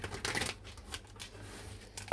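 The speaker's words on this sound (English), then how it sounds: "Give them a good old shuffle." Tarot cards are shuffled by hand in brisk riffling bursts, close and fairly soft, ending in a sharp tap as the deck settles.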